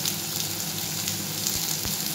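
Kohlrabi pieces fry in a pan as they are stirred, giving a continuous close sizzle with faint scraping underneath, brief and even.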